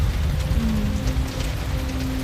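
Steady rain falls on a city street in the film Seven, a dense continuous patter on surfaces with a faint low hum underneath and no speech.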